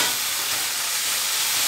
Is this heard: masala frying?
yes